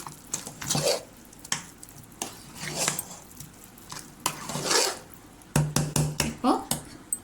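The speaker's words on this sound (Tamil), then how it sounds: "நெய்யும் முந்திரியெல்லாம் எல்லாத்தோடையும் கலக்கிற மாதிரி நல்லா மிக்ஸ் பண்ணி விட்டுக்கலாம்" Sakkarai pongal being stirred with ghee and cashews in a pan: repeated scraping strokes of a spoon through the thick mixture, close and moderately loud, with a voice faintly present now and then.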